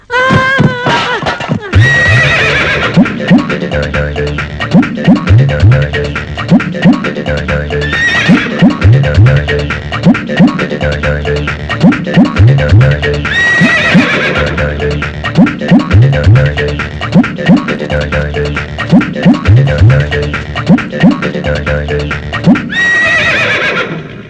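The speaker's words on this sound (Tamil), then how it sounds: "இப்படி குதிரை ஓடுது" A horse runs in a Tamil comedy film scene, neighing and whinnying loudly several times over a continuous rhythmic clip-clop of hooves that carries through the whole stretch without talk.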